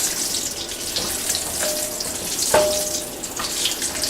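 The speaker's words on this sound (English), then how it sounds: "I will saute the whole spices" Whole spices, cardamom pods and cloves, sizzle softly in hot oil in a pan, giving a steady hiss with a few light clinks and taps, fairly close and moderately loud, with no voices.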